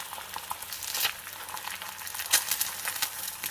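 Eggs frying sunny side up in a stainless steel pan, a light crackling sizzle with scattered pops, fairly quiet and close, no talk.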